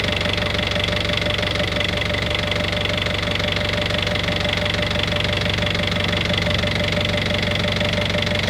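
An engine with a broken turbocharger runs after starting, a dense, steady rumbling drone with a rhythmic knocking texture that stays loud and constant throughout, with no voices.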